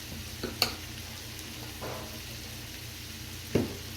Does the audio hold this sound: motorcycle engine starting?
no